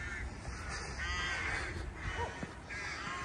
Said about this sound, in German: Ganz schön viele Vögel unterwegs.